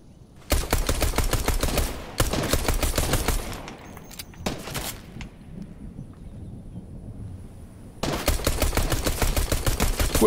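Rapid bursts of automatic gunfire from the video game Fortnite come in loud stretches of dense, continuous shots. A quieter gap in the middle holds a few scattered shots and a faint tone.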